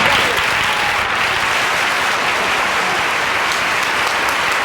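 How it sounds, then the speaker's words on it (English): Dense, sustained audience applause fills a Broadway-style TV musical special, steady and loud throughout with no break. "The marvelous applause."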